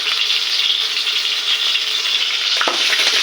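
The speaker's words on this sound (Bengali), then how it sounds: "মশলাগুলোকে নেড়ে নেব সবগুলোকে একটু বাজার ভাজা করে নিলাম" Steady sizzling of onion, garlic and cumin paste frying in hot oil, with occasional scraping strokes of a spoon stirring it near the end; loud and close, no voices.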